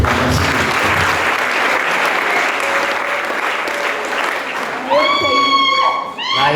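A church congregation applauds loudly for Christ, a thick, sustained roar of many clapping hands that carries on under sung or shouted voices rising near the end.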